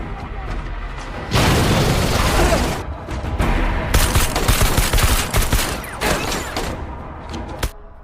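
Gunfire in an action film scene as soldiers open fire: loud bursts of rapid shots and heavy booms continue almost without a break, with a voice talking over them.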